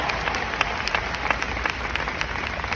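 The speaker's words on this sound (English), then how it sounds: "let's give Rosa a round of applause for the seeds that she planted for all" A seminar crowd gives a round of applause honoring Rosa Jackson, brisk and fairly close, with individual claps popping out of the dense, steady clapping.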